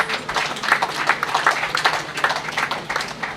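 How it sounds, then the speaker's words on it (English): An audience at a hospital grand opening applauds in a dense, lively burst of many hands clapping, moderately near, with no talk over it. "Please can I get a round of applause?"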